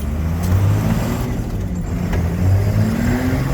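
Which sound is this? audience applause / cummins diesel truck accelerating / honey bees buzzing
cummins diesel truck accelerating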